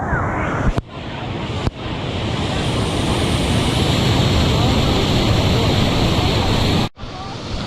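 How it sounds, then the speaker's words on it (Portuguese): Powerful cascade roars under a waterfall at Chapada dos Veadeiros, a dense, loud, continuous rush of falling water close by, with brief dropouts where the sound cuts. "Olha a pressão, a força da água"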